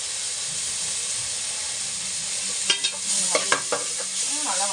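Onions sauté in a pan with a constant hissing sizzle, then a spoon stirs them in a run of metallic scrapes and clinks near the end, close, with no talk.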